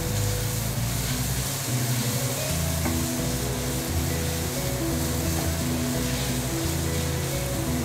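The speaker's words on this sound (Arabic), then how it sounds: "هننزل عليه بالثوم. برضه نبدأ نقلب فيه." Onion and garlic sizzle loudly in a pan, a steady close crackle of frying with stirring scrapes and shuffles running throughout, with no talking.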